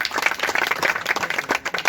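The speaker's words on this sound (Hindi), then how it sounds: "चलिए एक बार जोरदार तालियां आप सभी के लिए।" Audience applause at a Modicare DP opening program in Shamshabad, a dense patter of many hands clapping steadily throughout, fairly close and loud with no talk over it.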